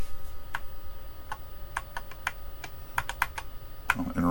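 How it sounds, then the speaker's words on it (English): Individual keys clicking on a Tandy Model 4P computer keyboard during a diagnostic keyboard test, sparse separate presses spaced irregularly, close and fairly quiet against a faint steady hum. "Keyboard test. Press the shift,"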